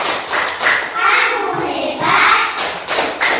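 Schoolchildren in an Indonesian classroom clap out a rhythmic chant together, a run of claps mixed with young voices speaking along.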